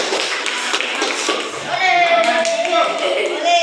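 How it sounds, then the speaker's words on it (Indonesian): A classroom audience clapping for a student group after a presentation, a steady patter of hands from many people that grows slightly louder midway, with a voice speaking over it. "kembali kita beri aplaus untuk kelompok 2 ini"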